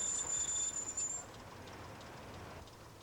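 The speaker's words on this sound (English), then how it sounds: "Just as important as the big expresses are the small commuter trains." A small model commuter train runs along its track, a faint rolling rumble with a thin high wheel squeal ringing over the first second before fading, leaving a steady quiet clatter with no talk.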